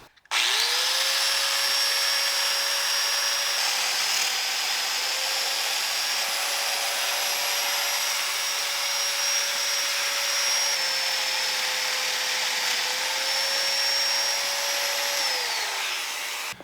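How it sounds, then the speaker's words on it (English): A domino joiner cuts mortises into fixed wooden bookcase shelves, giving a loud, steady high-pitched motor whine that runs continuously for about fifteen seconds with a brief dip in pitch near the end, alone without speech. "I'm going to be cutting all the mortises in these fixed shelves"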